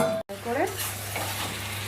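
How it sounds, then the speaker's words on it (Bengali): Meat being stirred in a frying pan with a little oil and spices: close, steady scraping and sizzling that runs throughout, with one brief cut near the start and a short spoken word. "আমি ভালো করে নেড়ে নিচ্ছি আমি।"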